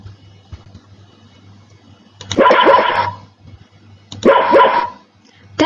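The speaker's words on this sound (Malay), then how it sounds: "Bunyi yang kuat ialah bunyi anjing" Dog barking in two loud bursts of several rapid barks each, separated by quieter gaps with a low steady hum underneath.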